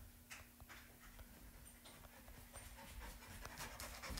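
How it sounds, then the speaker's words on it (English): Dogs pant hard after playing ball, with quick, rhythmic, breathy huffs close by that continue throughout, mixed with a few light clicks and taps and no talking. "my dogs are coming up and playing ball and breathing really hard"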